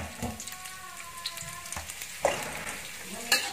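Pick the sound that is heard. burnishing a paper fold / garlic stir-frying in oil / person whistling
garlic stir-frying in oil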